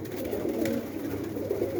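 A pigeon coos softly nearby, a low throaty murmur that rises and falls over faint background noise.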